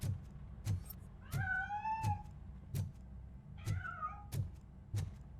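In the video game Robocop: Rogue City, a cat gives two drawn-out meows between a steady run of soft, rhythmic thuds, all fairly quiet with no talking.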